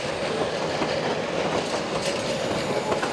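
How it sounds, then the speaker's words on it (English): The 1880 Train, a heritage train in South Dakota's Black Hills, rolls steadily along the rails, close and loud, with continuous rumbling and a faint rhythmic clatter of wheels. "experiencing the rhythm of the rails, rolling through South Dakota's Black Hills on the 1880 train"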